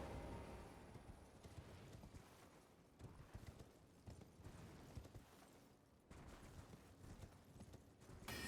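A horse's hooves clip-clop in an even trot across ground in the video game Elden Ring, quiet and fairly distant, with no voices.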